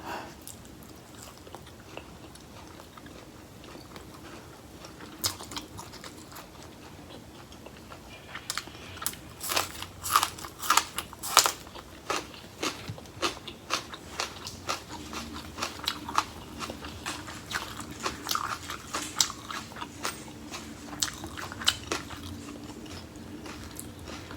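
Close, crisp crunching bites and chewing of beef waterfall salad with sticky rice and crunchy raw vegetables, irregular bursts of crackly mouth noises that grow denser midway, with no talking.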